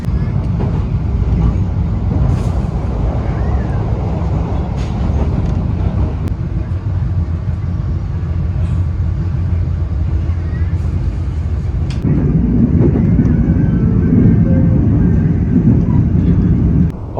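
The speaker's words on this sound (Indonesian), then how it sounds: "perjalanan kereta api Ijen Express ini telah berangkat dari stasiun Lawang" The Ijen Express economy train rolls out of Lawang station, a steady low rumble of wheels and carriage noise filling the interior, with a louder surge partway through.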